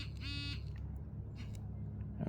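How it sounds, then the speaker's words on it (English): A handheld metal detector set to vibrate instead of beep gives a short buzzing pulse near the start, low and faint against quiet outdoor background at an old house site. "if you hold down the minus sign and the power button, when you turn on the power, it will just vibrate."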